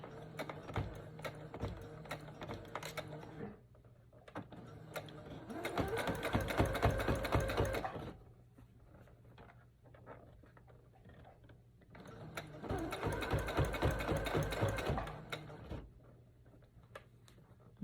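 Sewing machine stitching a braided children's headband, two loud close bursts of rapid mechanical whirring with quieter ticking handling between them, no talking.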